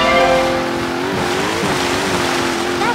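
Jet ski engine in the GameCube racing game Wave Race: Blue Storm, a steady loud motor hum with shifting pitch as the throttle is worked, rising near the end.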